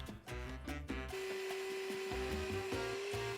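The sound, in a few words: sawing a piece of wood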